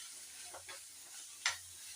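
Chili powder is stirred in hot oil for a bitter gourd theeyal, giving a faint, steady sizzle with a few soft scrapes of the spoon in the pan.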